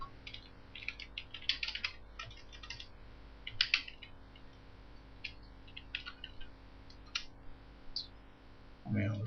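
Computer keyboard typing during Photoshop work, scattered bursts of light clicks at close range over a low steady hum, with a brief thud near the end.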